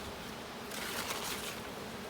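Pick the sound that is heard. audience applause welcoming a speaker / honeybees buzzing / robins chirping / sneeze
honeybees buzzing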